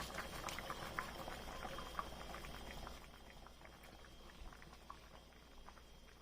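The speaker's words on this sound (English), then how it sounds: "So I'll pour in the ogbono." Ogbono being poured into a pot of boiling soup made with a palm oil alternative: quiet, continuous bubbling and simmering with faint liquid patter, a little busier at first, then settling.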